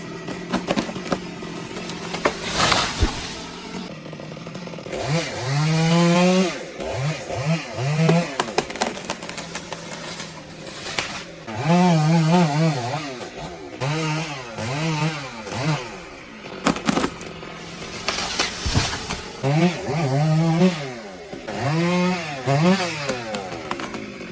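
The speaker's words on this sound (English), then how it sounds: "He used a chainsaw to trim the long branches, sawdust falling to the ground below." A chainsaw trimming long tree branches revs up and bogs down repeatedly as it cuts, loud and near, with short idling pauses between cuts.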